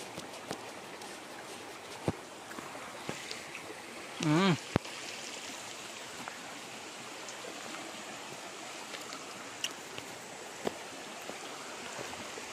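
A river stream flows through a tropical forest with a steady, broadband rushing and trickling wash, a brief voice breaking in partway through and a few faint clicks scattered over the water noise.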